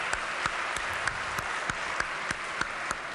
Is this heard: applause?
yes